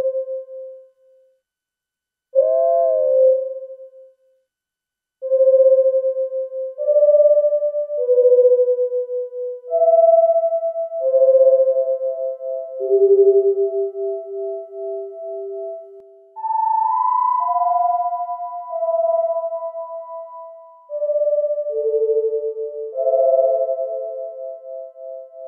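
Pure tones from a Vongon Replay virtual analog synthesizer play a slow series of sustained notes, two close pitches producing a gentle wavering beat.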